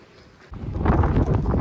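Outdoor wind starts suddenly after a brief quiet moment and builds into a loud, low, gusty rumble against the microphone.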